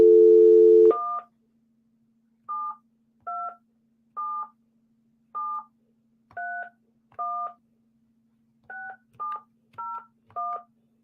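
A dial tone cuts off and a string of telephone DTMF keypad tones follows, about eleven short, clear beeps evenly spaced under a faint steady hum, no voices.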